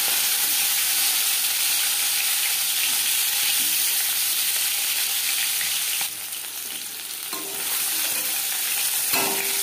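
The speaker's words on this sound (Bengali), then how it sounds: "চার 5 চামচ সরষের তেল গরম করে নিয়েছি। এবার দিয়ে দেব ম্যারিনেট করে রাখা মাছ।" Marinated fish fries in hot mustard oil for a Bengali fish curry, giving a loud, continuous, close sizzle and crackle throughout, with brief stirring or shifting noises near the end and no talking.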